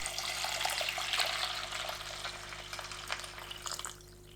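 Water poured steadily into a cooking pot holding nurungji, small anchovies, tuna sauce and mirin for porridge, a continuous splashing gush that tapers off near the end, close and alone.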